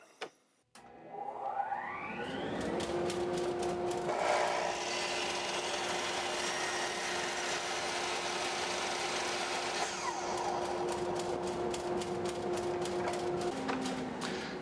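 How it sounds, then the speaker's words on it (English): A saw cuts an angled bevel through walnut during a broken chair repair, a steady loud whirring cut running about twelve seconds after a sharp start, then winding down. "So I'm looking to cut this angle here, and I think that will do it."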